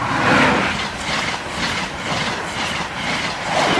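Class 43 diesel trains run past a level crossing in South Yorkshire, a loud, close, continuous rumble and roar with rhythmic wheel clatter over the rails and no talk.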